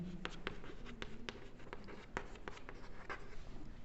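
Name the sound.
writing on a board during a maths lesson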